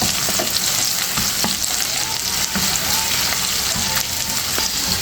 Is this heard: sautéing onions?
yes